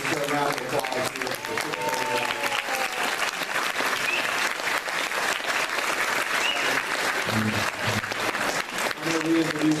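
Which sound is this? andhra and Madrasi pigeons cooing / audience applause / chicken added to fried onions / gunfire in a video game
audience applause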